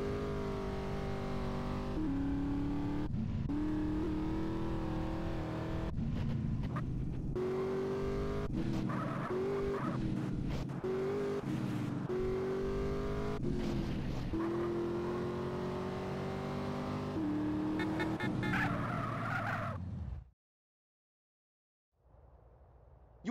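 A car in GTA San Andreas drives fast, its engine roaring loudly and continuously while the tires repeatedly skid and squeal for about twenty seconds, then it cuts out abruptly near the end.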